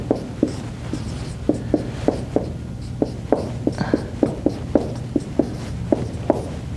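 Chalk or marker tapping and scratching on a board, a series of short irregular clicks and strokes over a low steady background hum, with no speech.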